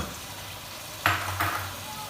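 Chicken frying in a pan with freshly whisked yogurt over a high flame for haleem, a steady low sizzle with two louder bursts of hissing partway through, close and alone.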